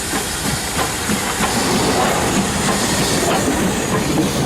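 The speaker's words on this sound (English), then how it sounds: "Well, you've got a steam railway." A steam train on the Isle of Wight rolls along steadily with rhythmic clattering of wheels and a constant hiss, loud and close throughout.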